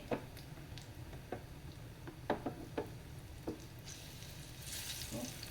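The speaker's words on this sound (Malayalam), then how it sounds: "ഫ്രൈ ആയി നല്ല ഫ്രൈ ആയി വരണം തിരിച്ചും ഇടണം" Slices of ripe plantain frying in ghee in a pan, a soft steady sizzle with scattered light pops and ticks, the bubbling swelling louder toward the end.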